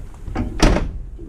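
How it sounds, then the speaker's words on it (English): A single heavy thunk as the door of an XC Ford Falcon under rust repair is pushed shut in a workshop, a close, solid slam with a brief rattle. "Let's see if I can get the door to shut."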